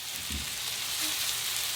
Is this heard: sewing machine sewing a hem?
no